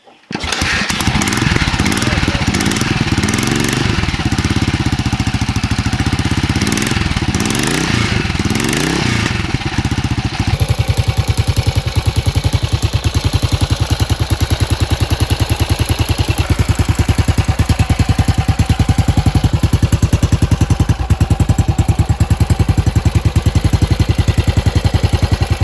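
A 1972 BSA Victor Trail motorcycle engine, loud and close, revs hard and then settles into a steady, continuous rumbling run, with no pauses throughout.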